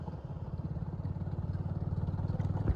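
A motorcycle riding along a village road toward the petrol pump, its engine giving a steady, pulsing low rumble up close that builds slightly in loudness.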